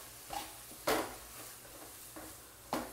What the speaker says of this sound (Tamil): நல்லா மிக்ஸ் பண்ணி கொடுங்க.